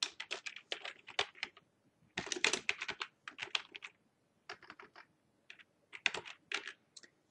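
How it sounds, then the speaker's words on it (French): Close-up typing on a computer keyboard while copying text into Word, heard as quick clusters of light key clicks broken by short pauses, quiet and with no talking. "j'ai juste à taper ce que je vois"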